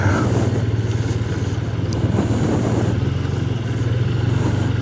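A BMW GS 1300 motorcycle engine runs steadily under the rider, a close, even low-pitched thrum with a rhythmic pulse and some wind noise.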